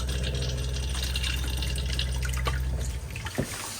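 A motorhome's fresh-water pump on a 2025 Auto-Trail Expedition C63 runs with a steady low hum while water flows, then cuts off near the end, leaving quieter room sound.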